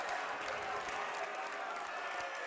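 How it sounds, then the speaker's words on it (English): Crowd noise at a boys' high school basketball game between Wenatchee and West Valley, a steady wash of cheering and applause throughout, heard from a distance at moderate level. "Crowd got excited there."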